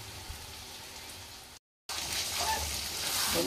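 Local chicken frying with a little water in a pan, sizzling and bubbling steadily at close range, with soft stirring; a brief dropout midway, then the sizzle returns louder.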